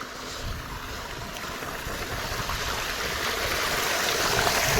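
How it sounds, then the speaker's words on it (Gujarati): Steady rushing of water flowing in a farm channel, a continuous broadband wash that grows slightly louder over the few seconds, with no voices. "આવો નજારા છે એ પાણીના તમે જોઈ શકો છો આવું કંઈક પાણી આવે છે"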